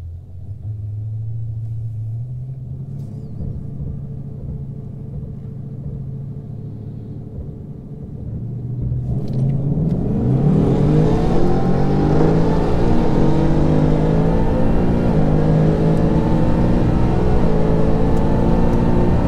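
A supercharged 2019 Mustang GT with an Edelbrock 2650 blower idles with a low rumbling burble at the drag strip, then roars hard off the line at about ten seconds and keeps pulling loudly through the gears.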